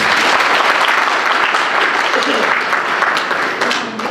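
Loud, sustained applause from a seated audience at a speech, steady and dense for the whole stretch with no talk over it.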